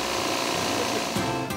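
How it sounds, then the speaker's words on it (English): A vacuum pump drawing refrigerant out of an old central air-conditioning system runs with a steady, continuous mechanical drone, loud and close, with a couple of brief clanks near the end. "The gas is actually drawn out by a vacuum pump and stored under pressure in a tank."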